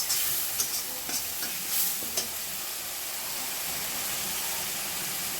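Cumin, coriander and green chilli paste sautés in a pan with a steady loud sizzle and hiss, and a few scraping stirs near the start.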